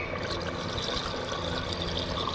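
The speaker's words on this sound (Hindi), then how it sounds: "अब हम इसमें डाल देंगे पानी, जितना हमें शोरबा चाहिए हमने उतना डालना है।" Water is poured steadily into a pot of mutton curry that has been mixed with yogurt, a continuous close splashing rush with no talk over it.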